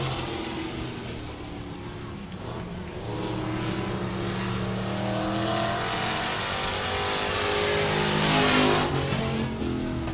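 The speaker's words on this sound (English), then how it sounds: "The drag race to the line, and your winner goes to 85 with James Thompson at 85." Stock cars race at 67 Speedway in Texarkana, their engines a loud, continuous roar that builds slightly toward the end, with no break in the pack's rumble.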